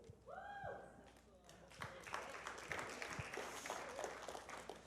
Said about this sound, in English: Pastor Ralph, did you catch that cheer?